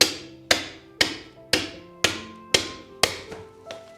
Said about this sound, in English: Now that we smashed the Dragonstone